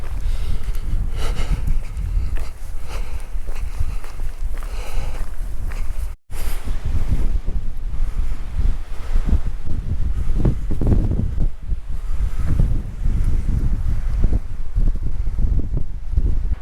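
Strong coastal wind under a yellow warning on the South West Coast Path between Sandbank and Portland Bill buffets the microphone in a loud, constant roar with gusty surges and rustling, and a brief dropout partway through.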